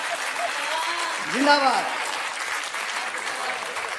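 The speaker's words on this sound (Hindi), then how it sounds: "सुनाओ ताली वाली" A crowd at a Hindi comedy poetry show, a kavi sammelan, applauds in a steady wash of clapping, with a voice briefly shouting a cheer over it.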